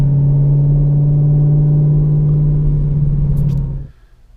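A Chevrolet Camaro ZL1 engine, limited by a valet tune, drones loud and steady at a low pitch around 1100 RPM with the gas pedal floored for several seconds, then cuts back to a quiet idle.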